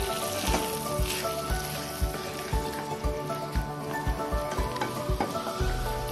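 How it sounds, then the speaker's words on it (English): Mashed potato with salted butter cooks slowly in a pan, giving a steady close sizzle broken by regular soft stirring thumps and scrapes, with no voices. "And slowly cook the mashed potato."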